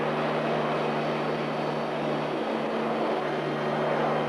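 A helicopter runs steadily over a Newfoundland caribou capture site, its engine and rotor giving a constant droning hum with a low tonal buzz, loud and unbroken throughout with no voices.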